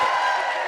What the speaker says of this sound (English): can you please let everyone know you're here with one really solid cheer?